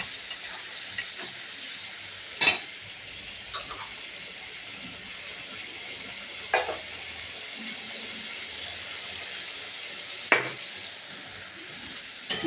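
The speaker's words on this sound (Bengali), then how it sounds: "মশলাটাকে ভালো করে একটু কষিয়ে নেব।" Cumin and turmeric powder frying with potatoes in a pan make a quiet, steady sizzle, broken by a few sharp clinks of a spatula against the pan.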